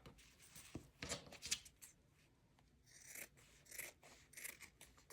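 Scissors snip and rustle through soft material at close range, with quiet cutting strokes and rubbing sounds that come in short, uneven bursts.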